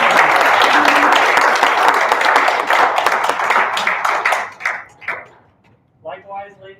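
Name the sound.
audience applause for judges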